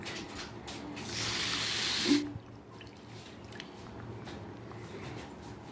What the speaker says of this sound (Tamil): இதே கிளாஸால் 1 கிளாஸ் தண்ணி ஊற்ற போகிறேன்